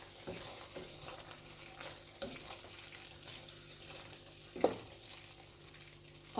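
Potato and eggplant curry with chopped green chillies and coriander being stirred in a pan, a soft sizzle under scraping spoon strokes, with a sharper knock near the end.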